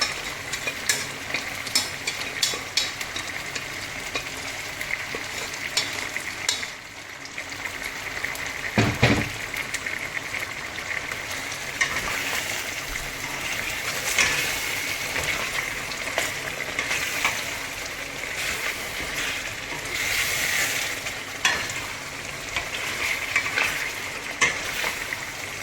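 Mutton pieces fry and sizzle steadily in a pot while being stirred, a continuous close crackle with scraping stir strokes throughout and no talking.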